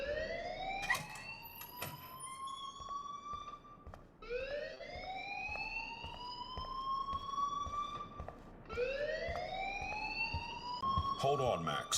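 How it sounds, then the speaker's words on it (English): An alarm rings in the Life is Strange: Chrysalis video game, a loud rising electronic wail that repeats three times in long sweeping cycles, with faint background sounds underneath. "please turn off that alarm since that's your job"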